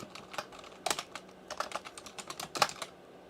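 Quiet, irregular tapping of computer keys in short bursts and pauses, close by, with no voices.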